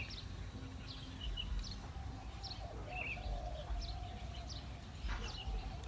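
Soft repeated cooing calls of a dove sound in the distance over steady outdoor background noise, with faint chirps from other birds.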